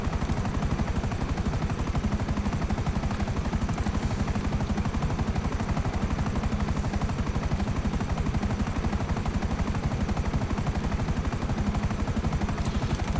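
Raiju aircraft flying in the video game GTA Online, a steady pulsing engine drone with a fast rhythmic beat held at an even moderate level throughout, with no talk.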